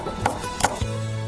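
A knife dices a deseeded green pepper on a cutting board, giving three crisp chopping knocks spaced unevenly, close and clear over a quiet background.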